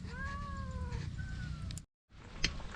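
A cat lets out two drawn-out meows in quick succession, close and clear over a steady low hum, followed by a brief silence and a faint clatter.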